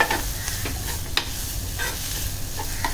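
Coriander sautéing in a hot tempering for Malvani chickpea sambar, a loud close sizzle with scattered clinks and scrapes of stirring, no talking.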